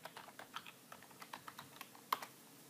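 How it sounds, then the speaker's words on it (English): Password typed on a computer keyboard at a MySQL login prompt: a quick, irregular run of light, close key taps, about a dozen strokes ending on one firmer press like Enter, in a quiet room. "Enter the password which you created for your MySQL admin account."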